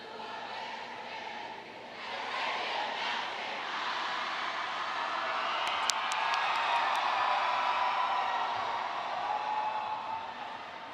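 Sustained cheering and applause from a large audience at the Arabia Mountain High School 2018 graduation ceremony for the graduating class, a steady broadband roar that swells slightly and holds, with a few brief whoops near the middle.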